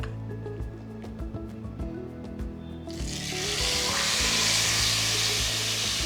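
Marinated beef chunks searing in hot oil in a pan for pot roast, clinking and stirring at first, then a broad, steady sizzle swells up and holds, close and fairly loud.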